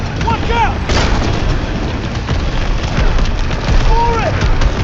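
Artillery and gunfire in a World War II combat scene from the video game Call of Duty WWII: a loud, dense wall of booming fire runs throughout, with brief whistling and shouting layered over it.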